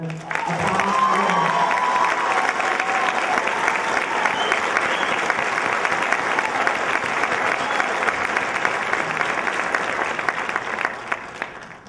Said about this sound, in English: Would you please give a round of applause to Donna Reiter